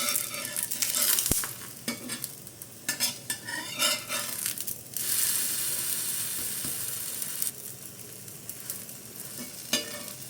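Bobbatlu flatbread frying in ghee in a pan over a low flame, with a steady sizzle under repeated scraping and tapping from a spoon or spatula and a few sharp metallic clinks, close by and without speech.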